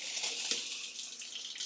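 A newly installed kitchen faucet running water into the sink, a steady close hiss and splash with slight fluctuations and no talking.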